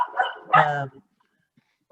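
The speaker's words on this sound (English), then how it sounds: "somebody's dog is going crazy" A dog barks a few times nearby, loud sharp yaps in a short burst, then a pause before another bark starts at the very end.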